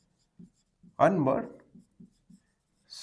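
A pen writing on paper during a sixth-grade maths lesson: faint, sparse scratch strokes around a short spoken word.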